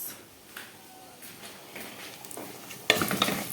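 Vermicelli browning in a pan for koshari, with a soft sizzle and stirring scrapes. The sound is faint at first and then grows louder and busier with clinks near the end.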